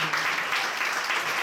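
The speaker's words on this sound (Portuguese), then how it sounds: "Uma salva de palmas para ele." A church congregation applauds steadily, dense and loud, with the clapping filling the whole moment without a break and no clear voice above it.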